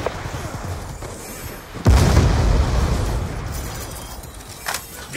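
Hellstorm missile explosion in the video game Black Ops 2, a sudden heavy boom that rolls on into a long, loud rumbling tail, followed by a fainter thump.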